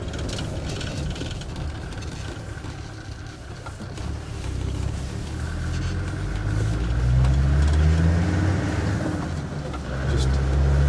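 A customised Land Rover Defender 110 TD5 pulls away and gathers speed, its diesel engine note rising steadily and loud throughout, with rumbling road and wind noise building toward the end.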